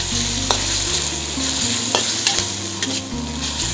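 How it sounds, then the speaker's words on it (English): Carrot is stir-fried with garlic in a pan for fried rice, giving a loud, close, continuous sizzle with steady scraping strokes over a low burner hum. No one speaks. "now the carrot. Okay. Cook that off a little bit."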